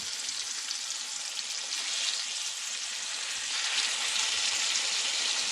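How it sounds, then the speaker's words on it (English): Pork chops frying in plenty of butter in a large pan, a steady, dense sizzle and crackle that holds evenly throughout and swells slightly toward the end, with no talking. "So I've got a nice big pan here, lots of butter. We're gonna drop them in."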